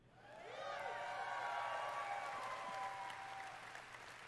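Audience applause at Bethesda's E3 2019 presentation swells quickly, holds as a dense, steady clapping roar with some cheering mixed in, then gradually fades over a few seconds.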